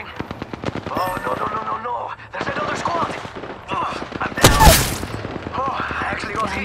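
Rapid bursts of automatic gunfire crackle through a video game shootout, with a sharp loud blast near the middle, steady firing throughout.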